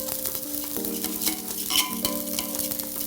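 Rice boiling in water for Hyderabadi biryani is stirred in a pot over a low flame. Close scraping stir strokes and soft bubbling sit over a steady tonal hum, with no voices.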